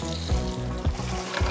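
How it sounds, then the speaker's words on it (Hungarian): Pork loin fries in hot garlic-infused fat in a pan, giving a steady loud sizzle with soft periodic crackles and pops, heard up close with no talking. "mehet bele ebbe a fokhagymás zsírba. Hadd süljön."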